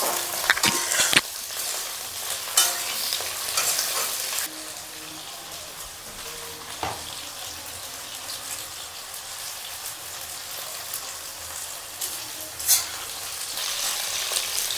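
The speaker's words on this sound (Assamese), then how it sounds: "বিলাহীটো অলপ ভাজি ল'ম।" Tomatoes sizzle with cauliflower in a hot oiled pan for masala khichdi, loud and crackling at first with scraping stirs, then settling into a quieter steady fry broken by occasional clinks.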